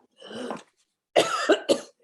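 Two bursts of human coughing, one short fit followed by a longer harsh run of three hacking coughs, close and fairly loud with a pause between.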